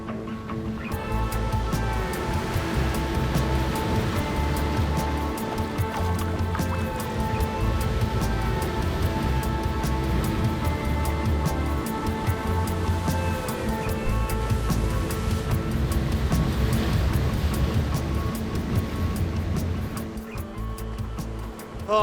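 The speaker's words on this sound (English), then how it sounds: "Being out there getting pummeled by the waves really does show you though how powerful wave energy really is." Ocean surf churns and breaks around a surfer, making a loud, continuous rushing roar that swells and eases over about twenty seconds, with no talking.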